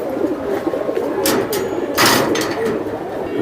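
Giribaz racing pigeons coo in a low, continuous murmur at a fancier's loft, close and fairly loud, with a few brief rustling bursts over it.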